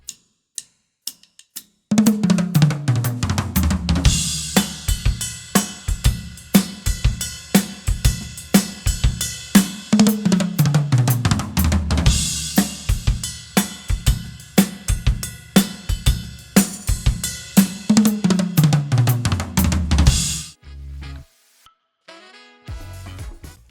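A drum kit plays at a fast tempo, one bar of fill followed by three bars of groove, with dense loud hits, crashes and tom runs over about twenty seconds before a few sparse strokes close it.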